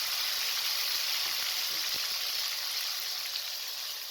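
Ginger garlic paste sizzles in hot oil with whole spices while cooking degi chana pulao, a steady, close, continuous crackling hiss with no talking.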